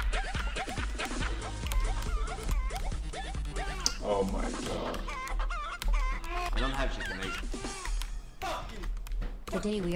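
Chickens cluck repeatedly in a busy, continuous farmyard clamour, with a rooster's crow showing up briefly, all under and alongside speech and other noise for the whole stretch.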